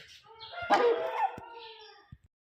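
A dakan breed rooster in Namangan gives a single close, drawn-out crow, followed by a couple of faint clicks in an otherwise quiet setting.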